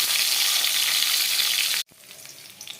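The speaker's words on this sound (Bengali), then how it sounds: "আলুটাকে এবারে আমি একটু ভেজে নেব।" Diced potato cubes frying in hot oil, a loud close crackling sizzle that cuts off abruptly, leaving quieter faint bubbling afterward.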